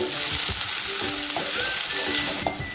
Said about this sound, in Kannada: ಈರುಳ್ಳಿ ಒಂದು ಈರುಳ್ಳಿ ಇದೆ ಸ್ವಲ್ಪ ಕರಿಬೇವು ಇದೆ ಇದನ್ನ ಹಾಕೋಣ ಸ್ವಲ್ಪ ಬಾಡಿಸ್ಕೋಬೇಕು ಹೊಂಬಣ್ಣ ಬರೋವರೆಗೂ ಬಾಡಿಸ್ಕೋಬೇಕು